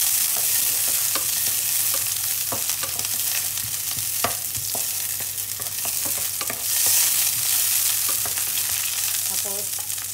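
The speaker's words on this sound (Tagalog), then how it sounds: "Igisa ko na yung ating sibuyas." Onion sautés in oil in a frying pan, a loud, continuous sizzle broken by repeated scrapes and taps of a utensil as it is stirred, close up, with no talk.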